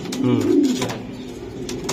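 Racing pigeons for sale coo in low, throaty rolls, close and fairly loud, with faint chirps and background voices around them.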